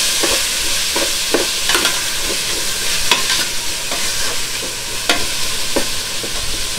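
Pork being stirred in a frying pan for Batangas lomi: a steady loud sizzle under repeated scraping and clinking of the utensil against the pan, near and continuous, with no talking.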